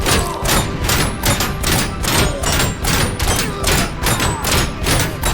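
Sniper rifle fire in the video game RoboCop: Rogue City: loud, heavy shots in a rapid, regular rhythm that keeps going without a pause, dense and booming throughout.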